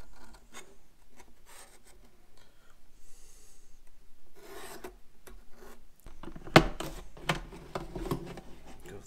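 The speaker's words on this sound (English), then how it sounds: "trace it out, cut it out with a razor, and hot glue it to the back of this to act as an insulator" A razor cuts through a thin plastic almond milk container, heard as close, uneven scraping and rasping strokes with brief pauses and a louder sharp crackle near the end.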